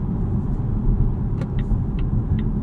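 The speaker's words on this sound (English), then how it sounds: "Let's do another acceleration test in pure mode and show you guys what that's like" A 2023 Volvo S60 Recharge T8 plug-in hybrid in Ultimate Black Edition trim pulls hard at full throttle in pure electric mode, a steady low rumble of road and drivetrain heard from inside, with faint ticks over the drone.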